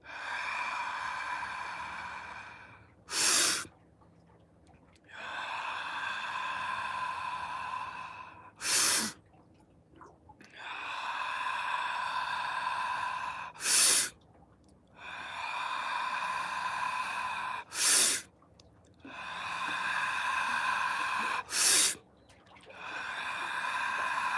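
Deep mouth breathing in a slow, guided pattern: long, airy breaths with a whistling, hollow tone repeat for several seconds each, separated by brief sharp intakes or puffs, close and fairly quiet.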